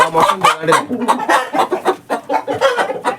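Laying hens in a coop bedded with sawdust cluck steadily and close by, with a busy, overlapping rhythm of short calls throughout.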